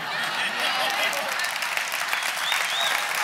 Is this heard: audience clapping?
yes